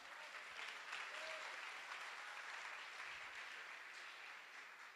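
Congregation applauding in a church, a steady wash of clapping that holds evenly for the whole stretch and stays fairly quiet and distant, with no clear voices over it.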